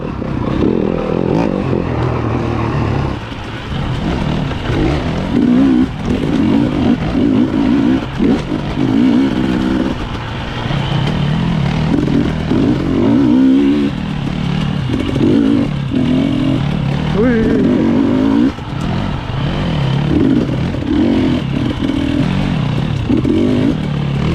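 A 2021 Yamaha WR250F dirt bike rides a wooded trail strewn with hidden tree roots, its engine loud and close throughout, revving and easing off in repeated surges with clatter from the chassis and terrain.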